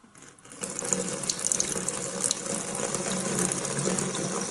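Water pours from an Olvy electric kettle into a bathtub, a steady close splashing gush that starts abruptly after a short quiet moment and runs on continuously.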